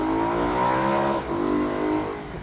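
A V8 BMW M3 convertible climbs uphill in second gear at around 5,000 rpm, its engine holding a loud, smooth, rising howl close by, with a brief dip midway before the revs pull strongly again.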